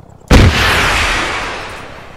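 Single loud, close gunshot from the video game Arma 3, a sharp crack that blooms into a long booming echo decaying over about two seconds, with no talk.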